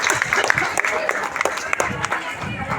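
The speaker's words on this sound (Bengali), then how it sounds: "এনারা সেটা গিয়েছেন, এর জন্য একটা হাততালি অবশ্যই প্রাপ্য তার" Audience applause at a gathering praising efforts to save a 125-year-old dying library, steady dense clapping running throughout, mixed with crowd murmur and some voices.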